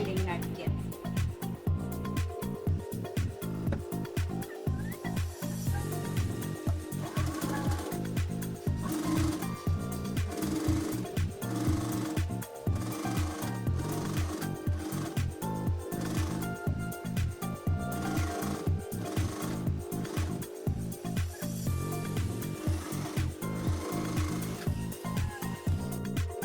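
A sewing machine stitches the folded edge of a sleeveless kurti in rapid rhythmic bursts, its needle chatter steady under someone talking throughout.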